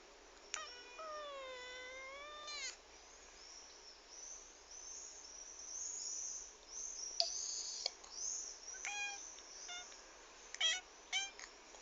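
A cat gives long, creaky, door-like meows with bending pitch, followed by a string of shorter chirping mews and squeaks, fairly close and quiet against a still background.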